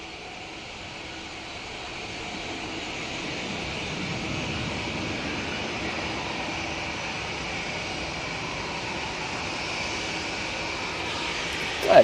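An airliner at Manchester Airport in stormy, windy weather takes off and rotates, its engine roar building gradually from a moderate level into a sustained, fairly distant rumble with a brief sharp noise at the very end.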